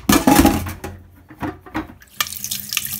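Water from a tap runs briefly into a cooking pot for steaming fish, a close splashing pour that stops and then restarts with faint clinks of metal.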